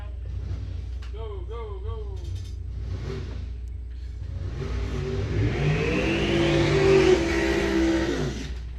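Drag racing at Coles County Dragway during a bracket and index final with an injected Mopar dragster: an announcer talks, then engines roar up loud and rising as the cars launch.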